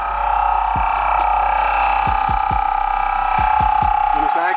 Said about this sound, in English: You hear the compressor.